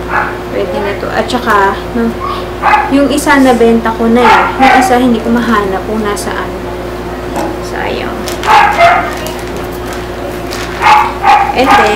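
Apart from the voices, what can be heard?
dog barking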